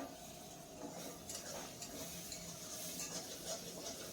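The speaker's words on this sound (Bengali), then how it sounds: "এখন কিছু সময় এইভাবেই ভেজে নিতে হবে" Egg frying with spices while a spatula stirs it now and then, a steady quiet sizzle with faint scraping strokes throughout, no voices.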